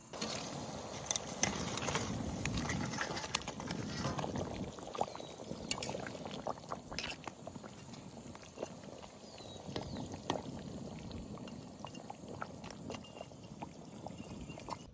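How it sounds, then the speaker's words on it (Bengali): Fried silver carp pieces going into boiling, bubbling curry water in a village outdoor cook-up, a steady close simmering and bubbling with scattered splashes and clinks, no talk. "জল সুন্দর জাল হয়ে গেছে, এবার ভেজে রাখা মাছ দিয়ে দেবো।"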